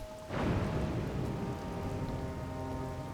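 A thunderstorm in the Zelda: Tears of the Kingdom video game: a sudden thunder crack gives way to steady, loud rain hissing and pattering, with a low rumble underneath throughout.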